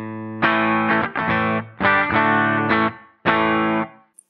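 An electric guitar with the P90J pickup model in the Blue Cat Axiom plugin, its gritty distorted tone playing four short phrases of strummed chords with brief gaps between them, close and clear with no talk.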